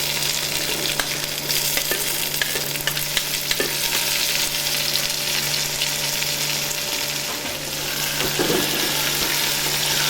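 Tomatoes sizzle with masala in a pan for Punjabi-style dal kaddu of chana dal and lauki, a dense continuous frying hiss with occasional stirring scrapes and a low steady hum beneath, close and loud.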